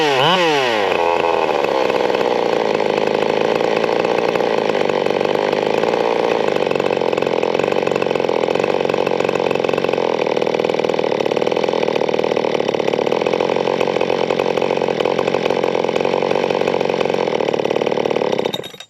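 A big bore 572 chainsaw engine starts and quickly climbs to a steady, loud high-RPM scream, holding close and constant throughout until it cuts off at the end, with no talk.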